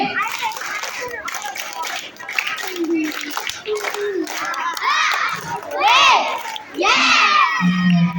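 Schoolchildren in a classroom clap a rhythmic clap chant together, bursts of group clapping mixed with loud children's chanting and shouting, crowded and close.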